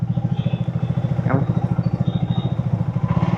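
Triumph Speed 350 cc motorcycle engine running with a steady, close, rapid mid-low throb, riding in traffic.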